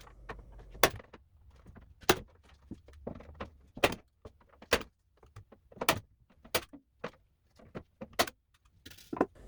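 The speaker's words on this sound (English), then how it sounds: "I staple it in place." A staple gun fastens cut metal lath over profiles while building coral rock formations, giving about ten sharp, close, distinct clacks at irregular intervals with quiet handling between them.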